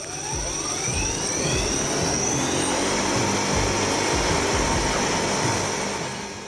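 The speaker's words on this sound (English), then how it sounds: "Are you ready to try this amazing aircraft?" A futuristic personal passenger aircraft flies with a steady, loud engine roar and a rushing whine that holds constant throughout, with no voices.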